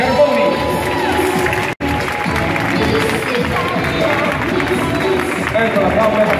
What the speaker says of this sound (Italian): un applauso per lei